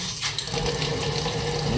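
Water from an AliExpress kitchen faucet mixer runs in another spray mode, a steady close rush and patter into the sink with no breaks and no talk.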